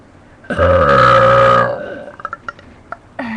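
A loud, drawn-out human burp rumbles for about a second close to the mic, followed by a few small clicks and a short voiced sound at the end.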